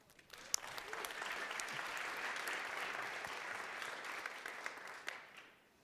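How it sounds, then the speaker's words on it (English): An audience at a tech inclusion conference gives a round of applause for event sponsors, a moderately distant burst of clapping that swells quickly, holds for about five seconds, then tapers off. "If we give them a round of applause, please."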